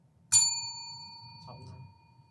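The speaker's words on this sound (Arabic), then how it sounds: "الجرس" A single bright bell ding rings out on a quiz show, loud and close, then its clear tone fades slowly over about two seconds, with a faint knock near the end.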